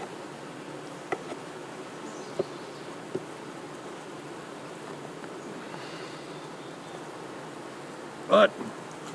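Honeybees buzzing around hive frames during colony splitting, a soft continuous hum at low level with a few faint knocks and one brief louder clack near the end.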